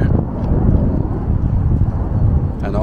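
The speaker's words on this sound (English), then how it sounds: "You cannot hide away from the wind. It's windy." Strong wind buffets the microphone in Windsor Great Park in a steady low roar with gusty swells, with faint bits of a distant voice at the edges.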